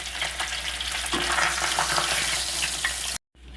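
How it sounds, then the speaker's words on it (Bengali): Rohu or catla fish head frying golden in oil, a loud, dense sizzle that runs steadily and then cuts off abruptly near the end. "এরকম সোনালি করে মাছের মাথাটা আমি ভেজে তুলে নিচ্ছি।"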